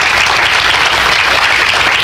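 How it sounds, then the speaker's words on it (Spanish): A church congregation applauds during a sermon, a dense, steady wash of many hands clapping at close range with no break and no voices over it. "Denle un aplauso al Señor por eso."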